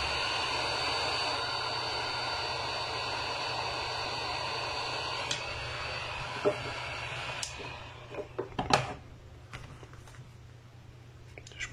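A hair dryer heats and softens the adhesive under the back glass of a Samsung Galaxy A70, giving off a steady, fairly close rushing hum for several seconds. It then cuts out and is followed by scattered clicks and handling noises.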